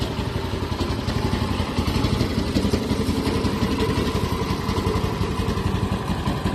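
A homemade mini tractor engine built from VAZ car parts chugs steadily at a rough, even idle, clattering close by throughout with no talking.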